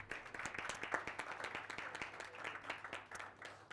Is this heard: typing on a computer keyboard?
no